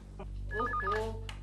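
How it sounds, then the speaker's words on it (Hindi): An indoor telephone rings softly in a warbling, repeating electronic tone, one short burst with a faint hum behind it. "केशव, फोन क्यों नहीं उठाते?"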